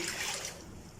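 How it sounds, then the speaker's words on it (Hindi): Plain water, three cups, pours into a non-stick wok on a medium-low flame for chutney, a brief close hissing splash that softens as it settles. "और 3 कप जो है वो हम लेंगे पानी, सादा पानी"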